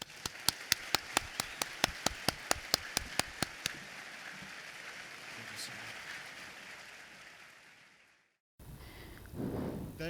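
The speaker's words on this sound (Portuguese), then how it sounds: "Recebamos com uma calorosa salva de palmas o Dr." Applause greets Dr. Benjamin Powell at the inaugural lecture of the Centro Mackenzie de Liberdade Econômica: a run of sharp, evenly spaced claps gives way to a dense, steady wash of clapping that fades and cuts off.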